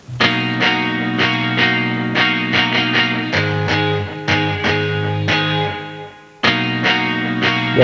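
Clean electric guitar chords ring out with a spacious, echoing wash, strummed in a steady rhythm with sustained tails and a short pause before resuming.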